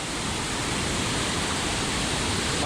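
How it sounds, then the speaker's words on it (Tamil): Powerful water gushing out of a tunnel in Vagamon, Kerala, in a steady, loud roar, continuous broadband rush with no break throughout. "டனல்லேருந்து வெளியே தண்ணி வருது சூப்பராக."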